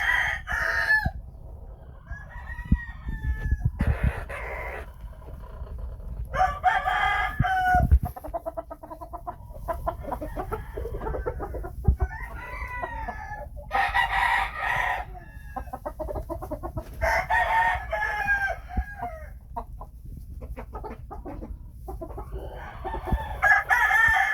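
Phoenix chickens at a Medina farm crow in repeated long, loud cock-a-doodle-doos spaced a few seconds apart, with clucking and scratchy farmyard noise filling the gaps between calls.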